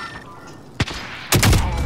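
Gunfire in Warzone: a single sharp close shot, then a burst of heavier rapid shots a half second later, loud against quiet background.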